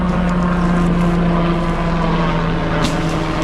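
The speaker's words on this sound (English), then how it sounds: "Here's a helicopter." A helicopter flies over a rural Arkansas homestead on its way to a hospital, giving off a steady, loud droning hum with a constant low tone and no one talking.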